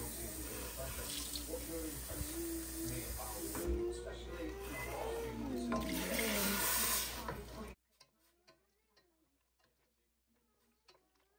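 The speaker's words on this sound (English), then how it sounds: "And then I'll be adding a little bit more water so my meat can cook through." Water runs from a tap into a pot of meat being cooked for fried rice, a steady close hissing pour lasting several seconds before cutting off, with quiet kitchen sounds after.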